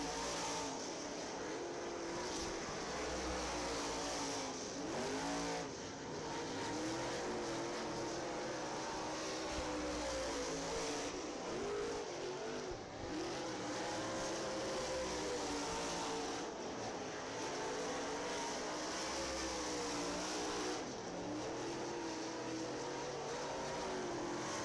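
Race car engines drone steadily through a qualifying run at County Line Raceway, a continuous loud roar with rising and falling revs as cars circle the track, no talk over it.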